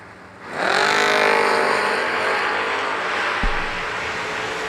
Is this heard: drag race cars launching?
yes